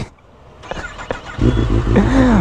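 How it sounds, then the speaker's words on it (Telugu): A Kawasaki ZX-10R superbike on its stock exhaust fires up after a few knocks, settling into a loud, close, rumbling engine note that swells near the end. "సౌండ్ రాదా ఈ సూపర్ బైక్కి?"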